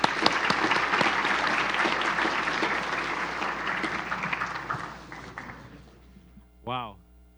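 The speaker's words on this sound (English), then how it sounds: "Can we get another round of applause, please?" An audience at an MIT quantum hackathon keynote panel applauds the panelists in a dense, steady round of clapping that fades out after about six seconds, followed by a short burst of speech.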